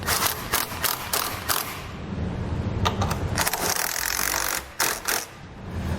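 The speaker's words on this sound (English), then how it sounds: "Take a 15mm socket, we'll tighten our hardware down." A ratchet with a 15mm socket tightens the bolts of an EcoHitch Stealth trailer hitch on a 2018 vehicle, making close, rapid clicking bursts of the pawl in repeated strokes with short pauses between them.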